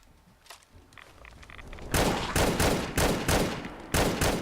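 Gunfire in a modded Fallout 4, a series of five or six loud, sharp shots spaced at roughly half-second intervals, preceded by faint clicks and small movement sounds.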